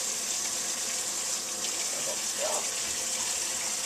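Tap water runs steadily while hands are rinsed during corned beef and cabbage preparation, a constant close hiss with a faint splash partway through.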